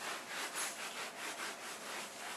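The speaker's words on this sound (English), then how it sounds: "I scrub it a little bit, but I don't try to get all the spots out." Brisk back-and-forth scrubbing of a carpet spot treated with Dawn dish soap and hydrogen peroxide, a steady rhythmic rubbing close by with no talk.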